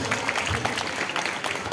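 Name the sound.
audience applause for the puppet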